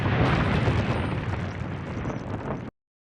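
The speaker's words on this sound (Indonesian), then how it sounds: "ledakan yang cukup besar." An air compressor beside a minimarket counter blows up in a film scene, a large, loud explosion with a dense roaring burst that rumbles for nearly three seconds before cutting off abruptly.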